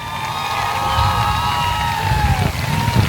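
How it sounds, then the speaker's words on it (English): A crowd at Sauble Speedway cheers and whoops for a driver, voices shouting together in a loud, sustained roar with rising calls over the noise. "Give him a nice round of applause."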